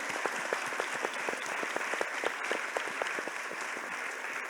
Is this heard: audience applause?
yes